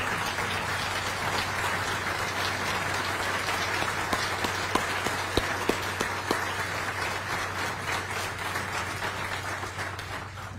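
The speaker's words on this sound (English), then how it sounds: "let's give this recruiting class and their trainers a big applause" Steady, full applause from the crowd at a police recruit graduation ceremony, a continuous rain-like patter of many hands clapping with a few sharper claps standing out, sustained for over ten seconds.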